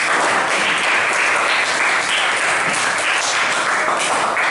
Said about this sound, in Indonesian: beri aplaus untuk kelompok 5